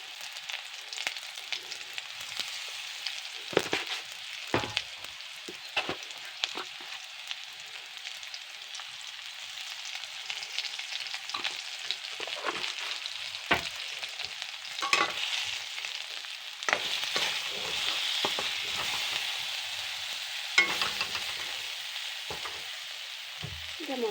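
Potatoes frying in a pan for an Assamese paneer mutter dish, a soft continuous sizzle broken by frequent scraping and stirring clatters, close and fairly quiet, with no talking.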